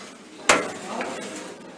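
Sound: forks and spoons clinking

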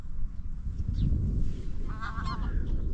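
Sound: Canada geese honking

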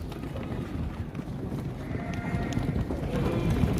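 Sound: lambs bleating on a farm

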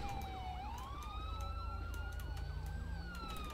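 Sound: police car siren in video game GTA 5

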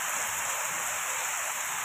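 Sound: heavy rain with wind and hail

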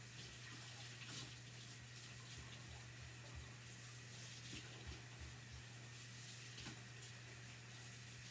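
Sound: washing chalk transfer stencil under running tap water

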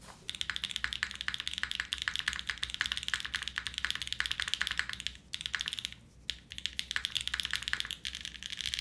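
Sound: typing on a Wind Z75 mechanical keyboard

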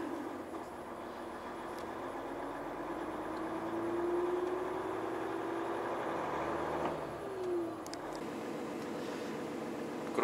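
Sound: car engine misfiring with unstable idle

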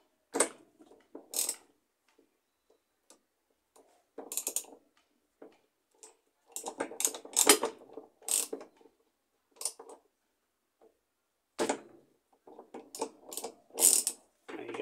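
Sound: loosening a washing machine bolt with a 10 mm wrench

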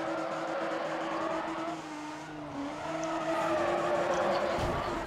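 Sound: car drifting with tire squeal, Need for Speed Pro Street video game

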